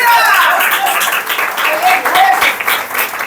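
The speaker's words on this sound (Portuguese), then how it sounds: "Pode aplaudir mais o Eterno." A church congregation claps and cheers in sustained, dense applause that stays loud throughout.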